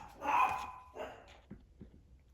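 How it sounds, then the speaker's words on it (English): A dog barks indoors, with one louder bark followed by a few shorter, quieter yips and woofs fading off, fairly close and heard alone. "there goes my dog."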